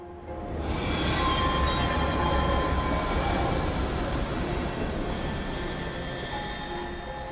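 A train in the video game Love and Deepspace rumbles along steadily with dense rolling wheel noise and faint high squeals, loud and continuous, without talking.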